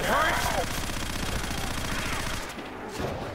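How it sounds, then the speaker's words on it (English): Bison SMG from Call of Duty custom zombies firing a fast continuous rattling burst for about two and a half seconds, loud and close, then cutting off, with game sounds and talk mixed in. "The Bison, one of my best favorite SMGs in custom zombies"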